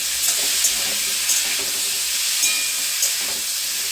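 Pumpkin and potato curry fries in a pan with a loud, continuous sizzle, while a spoon stirs through it in repeated scraping strokes close up.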